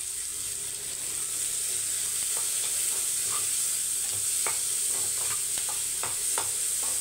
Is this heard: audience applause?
no